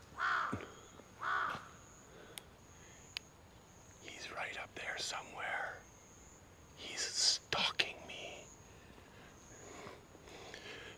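A crow caws a few times outdoors in a Tokyo street setting near a graveyard, loud, harsh calls spaced apart, mixed with quiet whispering and other rustling sounds.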